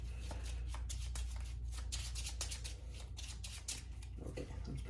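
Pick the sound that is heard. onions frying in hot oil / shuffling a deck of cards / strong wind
shuffling a deck of cards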